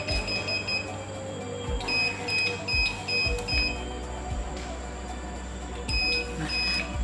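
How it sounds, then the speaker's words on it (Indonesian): Flood-warning electrical safety device, the AMANK AIR 3.1, sounding its buzzer in rapid repeated beeps at the danger level, steady and fairly close with a low background hum and some speech underneath. "buzzer di sini akan berbunyi dengan lebih cepat lagi"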